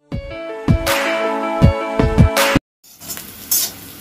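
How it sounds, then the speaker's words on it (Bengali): Eggplant fries in hot oil in a wok with a steady sizzle, broken by loud metallic clanks and scrapes of a spatula stirring, then a short pause before quieter sizzling resumes. "বেগুনটা আমার ভাজা হয়ে গেছে,"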